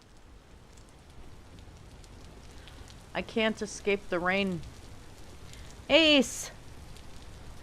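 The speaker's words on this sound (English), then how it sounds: "I can't escape the rain" Rain falling in the survival game Vintage Story, a soft, steady patter that runs under a person speaking a few words over it.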